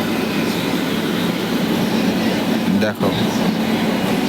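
A moving express train heard from inside a carriage: a loud, steady rumble and rattle of wheels on track continues throughout, with a brief spoken word partway through.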